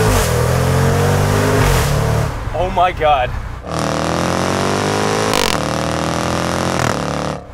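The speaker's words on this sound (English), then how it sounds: "listening to these exhaust crackles" Jaguar F-Pace SVR, 2022 model, revving hard with exhaust crackles through upshifts and downshifts, a loud continuous engine roar broken by a brief drop and sharp pops; a voice exclaims over the engine midway.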